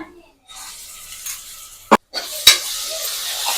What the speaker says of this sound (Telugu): అల్లం వెల్లుల్లి పేస్ట్ కూడా బాగా ఫ్రై అయిపోయింది